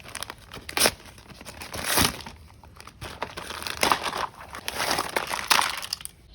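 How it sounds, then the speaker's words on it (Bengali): A plastic packet holding miniature fast-food toys being unwrapped, with repeated crinkling and crackling bursts of varying loudness, close up and with no talking. "তো চলো প্যাকেটটাকে আনপ্যাক করে ফেলি।"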